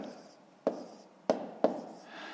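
A pen writes numbers by hand on paper during a column multiplication, with three sharp taps among soft scratching strokes in a quiet room.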